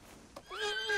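A horse in Red Dead Redemption 2 lets out a single close, loud whinny, rising sharply after a brief thump and cutting off abruptly.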